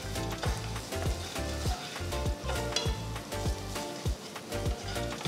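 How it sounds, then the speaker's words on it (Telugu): Chopped garlic, ginger and green chillies fry in hot oil in a pan, a steady close sizzle broken by regular stirring scrapes, with no talk. "1 టేబుల్ స్పూన్ అంత తరిగిన వెల్లుల్లి, 1 టేబుల్ స్పూన్ అంత తరిగిన అల్లం, చిన్నగా తరిగిన 2 పచ్చిమిరపకాయలు వేసి వేయించాలి"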